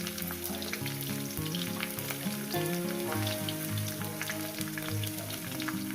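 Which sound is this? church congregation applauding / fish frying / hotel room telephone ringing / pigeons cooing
fish frying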